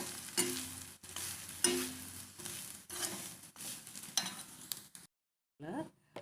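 Grated coconut dry-roasting in a pan gives a close, dry crackle broken by repeated stirring scrapes that come in bursts, then stops briefly before a few last faint stirs.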